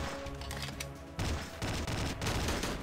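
Rapid gunfire from the video game Slendytubbies 3, a dense fusillade of loud overlapping shots with booming low end, continuous bursts over a few seconds with brief gaps between volleys.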